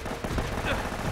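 Turret gunfire in the video game Uncharted: Drake's Fortune, a brief burst of dense, rapid shots that blend together, loud and close, with faint voice sounds mixed in.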